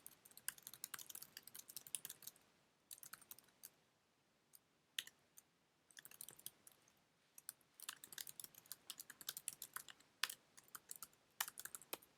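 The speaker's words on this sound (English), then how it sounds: "so I just typed in a bunch of text" Typing on a computer keyboard while entering text into a Moodle editor, with bursts of quiet, close key clicks separated by short pauses.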